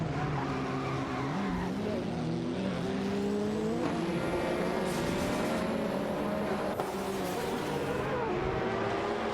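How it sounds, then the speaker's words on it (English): Race cars in a racing video game, including a Ferrari F40 Competition and a Porsche 911 GT2, with engines whining and shifting pitch as they rise and fall through gears, overlapping cars competing closely, sustained and fairly quiet. "Edelberg in the Ferrari F40 Competition are going head-to-head for the 9th position"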